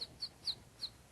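A person imitates a bird call, giving four short, high chirps in a quick, evenly spaced run, faint and with no other sound around them.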